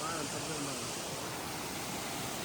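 A hidden waterfall in Kerala, a steady, even roar of falling water that fills the whole clip, heard from a moderate distance.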